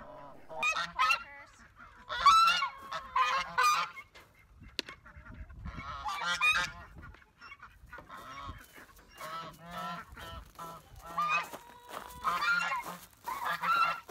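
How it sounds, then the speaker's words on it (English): Geese honk repeatedly in loud, overlapping bursts, a noisy flock close by with short pauses between volleys. "I always open up the geese last because they can be kind of bossy."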